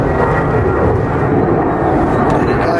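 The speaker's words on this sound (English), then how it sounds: "I might not be able to hear because the plane's going over" Airplane passing overhead near a riverbank bream fishing spot, a steady, loud, broad roar that holds level throughout with no talk over it.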